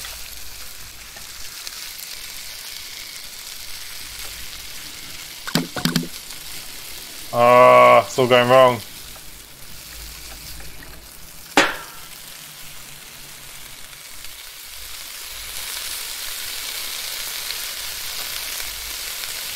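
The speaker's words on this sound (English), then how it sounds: "Definitely sounds like something's cooking here." Food frying and sizzling in a pan in the Cooking Simulator video game: a soft, continuous sizzle under the other sounds, broken by a few sharp clicks and a short burst of speech partway through.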